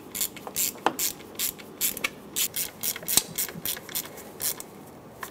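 A ratchet wrench tightening bolts on a 2003-2009 Dodge Ram 2500 5.7L V8 during a spark plug job, steady clicking pawl bursts in quick repeated strokes, close and fairly loud, no talk.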